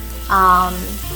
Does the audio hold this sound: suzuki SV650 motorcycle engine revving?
no